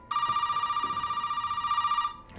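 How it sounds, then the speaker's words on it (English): An in-game telephone in Resident Evil 7 rings steadily for about two seconds, a bright electronic warble with a fast regular pulse, loud and alone before it cuts off. "A phone call there from Zoe."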